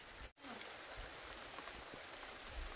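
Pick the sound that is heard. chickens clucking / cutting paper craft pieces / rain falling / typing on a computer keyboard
rain falling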